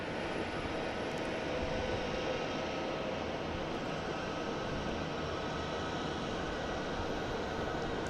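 An Alaska Airlines airliner in oneworld special livery on approach to Boston Logan International Airport, a steady broad distant engine roar that holds evenly throughout.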